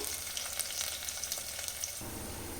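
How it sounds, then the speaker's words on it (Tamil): Onions sautéing in a pan until brown for a green gram and ridge gourd kadaiyal: a continuous, fairly soft frying crackle with light stirring, close by and without speech. "வெங்காயம் ப்ரௌன் கலர் வர வரையும் வதக்கி எடுத்துக்கலாம்"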